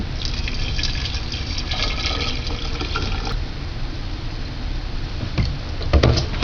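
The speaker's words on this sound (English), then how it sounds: "go ahead and use some spring water" Spring water pours into a jar of sprouted wheat berries, a steady broadband rush of filling liquid lasting throughout with a few small clinks and drips near the end.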